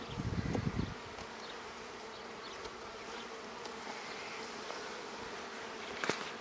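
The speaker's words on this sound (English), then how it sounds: "it's full of bees on everything" Bees buzz steadily around a hive full of comb, a continuous droning hum with a louder burst near the start and a few individual insects passing close.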